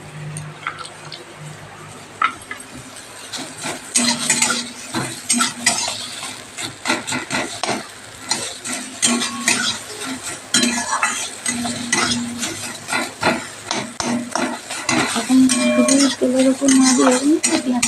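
Sliced onions and green chillies frying in a wok, with irregular spatula scrapes, clanks against the pan and a soft sizzle underneath, plus occasional voices.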